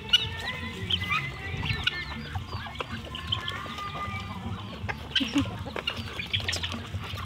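Farmyard chickens clucking at dusk among ducks, with scattered nearby clucks and calls over a steady busy poultry chatter, no talking.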